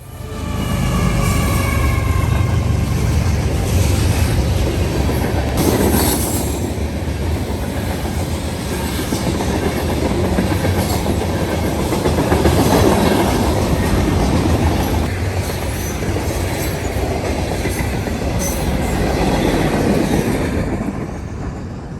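A long CSX freight train with diesel locomotives, including an ES44AH as mid-train distributed power, rolls past close by, with a deep engine rumble, clattering wheels on the rails and occasional faint squeals, steady throughout.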